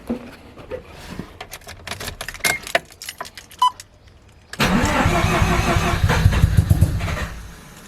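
A car engine cranks repeatedly on worn, fouled spark plugs, stuttering without catching, then a loud steady running rumble takes over partway through, close and with no talking.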